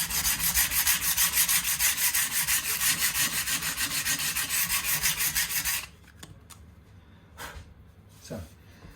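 Sandpaper rubs back and forth over the wood of a 1985 Made-in-Japan Fender Telecaster-style guitar in fast, even, loud strokes for about six seconds, then stops, leaving quiet room sounds and a couple of soft knocks.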